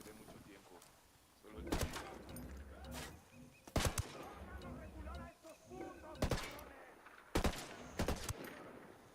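Gunfire in a video game: sharp single shots and short bursts crack out at intervals over a steady rumbling backdrop while people talk throughout.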